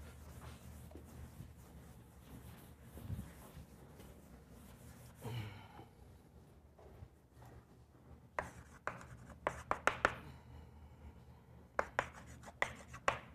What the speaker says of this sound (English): let's erase these questions because we already know what the questions are